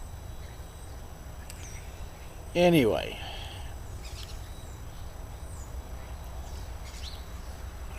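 A single short, harsh bird call rises briefly over a steady outdoor background of insects and low rumble in Idaho, followed by quiet, with a brief word spoken by a person.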